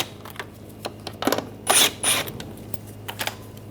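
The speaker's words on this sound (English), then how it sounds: "take these two screws out," A T25 socket ratchets out fog light screws on a 2010-2014 Volkswagen GTI, giving a few close, sharp clicks and short mechanical bursts separated by quiet pauses.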